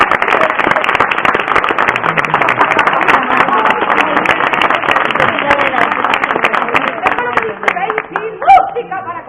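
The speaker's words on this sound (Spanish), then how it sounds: "Un fuerte aplauso para mi ayudante." Audience giving a loud applause for a performer's assistant during a staged historical tour, dense continuous clapping from a crowd nearby that holds steady for several seconds before thinning out, with a voice briefly heard at the end.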